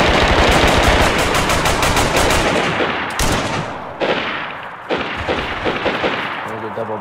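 Loud, close automatic machine gun fire from a video game rattles in a rapid sustained burst, then breaks into shorter bursts with sharp single blasts and fading echoes.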